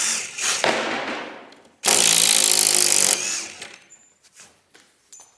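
A Ryobi HP impact driver drives screws in a loud, close burst of about a second, framed by quieter whirring and clattering before and after.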